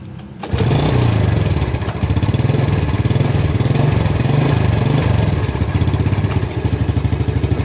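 A Yamaha Jupiter Z carbureted motorcycle engine cranks and catches with the headlight on, then settles into a loud, steady, close idle with a rhythmic low putter.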